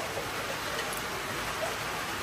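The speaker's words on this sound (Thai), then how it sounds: "ข้างนอกก็ฝนตกพี่น้อง ฝนตกอีกแล้วพุ่นนะ" Rain falls outside in a soft, even hiss, steady and moderately close, with no other distinct sounds.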